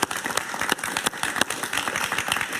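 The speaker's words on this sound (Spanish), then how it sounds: "Un aplauso para José Antonio Correa." Steady applause from a TV talk show studio audience, dense clapping filling the whole stretch at a loud, even level.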